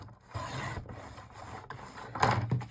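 A paper trimmer blade slides through a sheet of card with a dry, close scraping rasp lasting a couple of seconds, ending in a louder final stroke.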